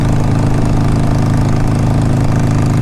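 2007 Harley-Davidson 883R motorcycle engine running close by, a loud, steady low-pitched rumble with an even throbbing beat throughout, no voices.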